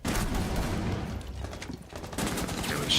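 Rapid gunfire during a college esports shooter match, dense bursts of shots rattling loud and close with a steady background roar.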